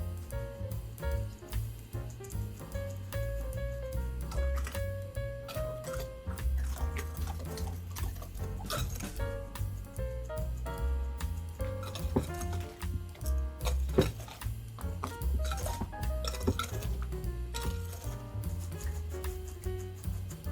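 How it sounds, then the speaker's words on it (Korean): Sifted cake flour with baking powder and salt is folded into pound cake batter in a bowl, giving soft, repetitive squelching and scraping strokes at a steady rhythm, faint and close. "가루를 세 번에 나눠서 채쳐서 이제 섞어줄게요"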